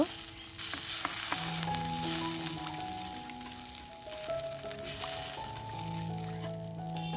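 Spices fry in a pan before broth goes in, a steady close sizzle running throughout with occasional stirring scrapes and faint tonal hums in the background.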